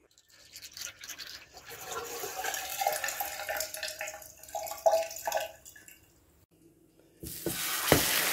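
Tap water running into a bathtub for a hot soak, a steady splashing flow heard close up, easing off briefly before a louder surge of water near the end.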